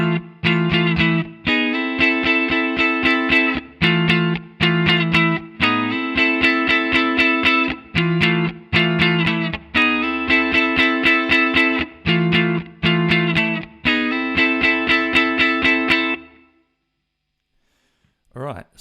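Second guitar part of a song, played on an effected, slightly distorted electric guitar with reverb: repeated rhythmic chord stabs with brief gaps, steady and close, ending in a short silence.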